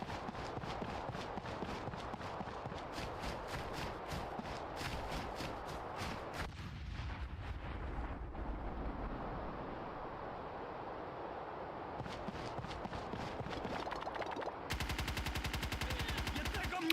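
Repeated bursts of gunfire in SOCOM Combined Assault crackle at a quiet level, mixed with footsteps and game effects, with a steady rapid volley near the end.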